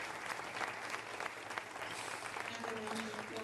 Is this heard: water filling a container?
no